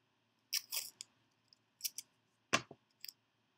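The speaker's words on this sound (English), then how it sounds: "So I'll use the masking tape." Masking tape torn and pressed along the wing edges of a cardstock paper X-wing model: a handful of short, crisp crackling bursts, close and fairly quiet, with brief silences between them.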